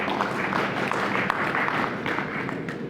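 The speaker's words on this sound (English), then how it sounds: "What a poor clap" Scattered, thin applause from a church congregation, a light patter of claps spread evenly through a short stretch with no voices over it.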